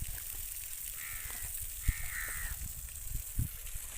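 Two crows caw faintly at a distance over steady outdoor hiss at a tomato seedling plot, with a few soft thumps nearby.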